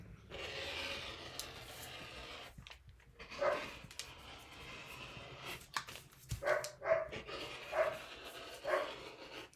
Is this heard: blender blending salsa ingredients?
no